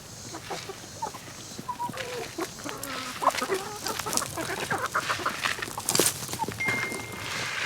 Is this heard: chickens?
yes